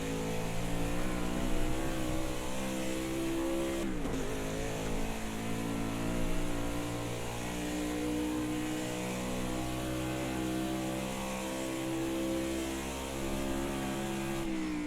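A race car engine in the racing video game Project Cars 2, a steady droning roar with rising and falling revs and a brief gear-shift dip, loud and continuous, with no talk.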